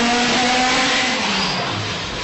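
A 1,000 horsepower race car engine running loud and close under load on a dyno, a steady, dense roar holding a sustained tone for the whole stretch, with no talk.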